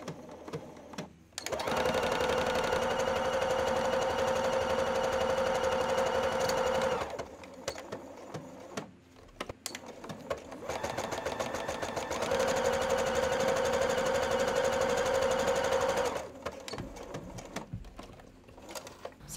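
A sewing machine stitches a seam on knit stretch fabric, running in two long, loud, steady bursts of rapid needle clatter separated by a pause with light handling noise.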